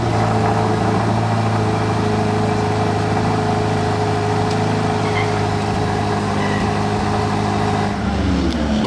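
A Ferrari Amalfi Spider idles in Monaco, a steady close engine hum with a low rumble that holds even throughout, shifting slightly in tone near the end.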